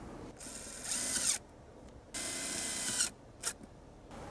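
A power driver whirs in two sustained bursts and then gives one short final blip, driving small metal screws into trim inside a Subaru Outback. The tool runs close and loud, with quiet pauses between bursts and no speech.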